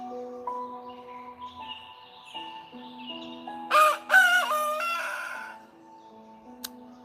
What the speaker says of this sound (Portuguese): Terceira vez que o galo cantou.